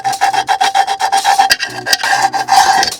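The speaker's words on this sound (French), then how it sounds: "Prends une clé, hop, et au bord là, viens gratter comme ça pour avoir une belle ligne." Metal key scraped along the edge of a freestyle scooter part in quick repeated rasping strokes, close and loud, with a few short pauses between bursts.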